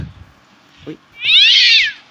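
Cat meowing in the Slendrina 2D video game, with a short soft chirp followed by one long, loud, drawn-out meow near the end, heard clearly and alone.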